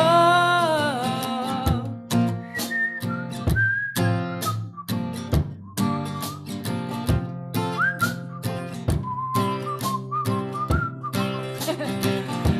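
A person whistling a melodic tune in short phrases alongside guitar in a concert setting, loud and close with clear sustained notes and brief pauses between phrases.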